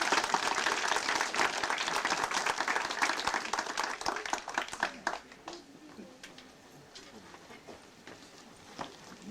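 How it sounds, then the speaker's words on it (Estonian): A crowd applauds loudly with dense clapping that fades out halfway through, leaving quieter scattered sounds. "aplaus talle"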